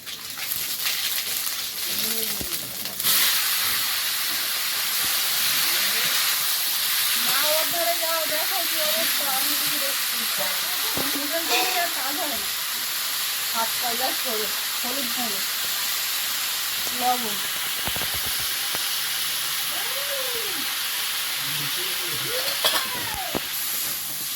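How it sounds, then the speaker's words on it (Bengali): Panch phoron spices and ginger fry in oil in a wok, a steady close hiss and sizzle running throughout while people talk over it. "কড়াই আবার একটু তেল দিয়েছে একটু পাঁচ ফোড়ন একটু আদা তেলে"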